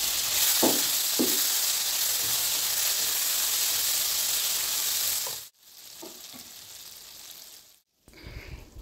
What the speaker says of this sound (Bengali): এখানে বাকি বেগুনগুলো তেলের মধ্যে দিয়ে দিচ্ছি